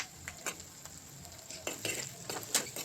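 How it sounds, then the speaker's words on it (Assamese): Spinach paneer masala being stirred in a pan, with a faint sizzle and soft, irregular scrapes and taps of a spoon against the metal, quiet and close. "ধুনীয়াকৈ লাৰি দিলোঁ"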